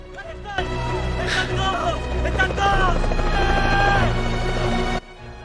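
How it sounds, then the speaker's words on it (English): A helicopter arriving in the film Society of the Snow, its loud, steady rotor drone swelling in suddenly and holding for about four seconds before cutting off, with voices over it. "helicopter coming in."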